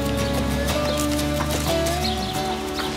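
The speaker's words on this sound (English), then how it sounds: "My dad's got all the horses out there." Horses on a Maori family's rural land, hooves clopping and whinnies rising over a dense, steady musical background.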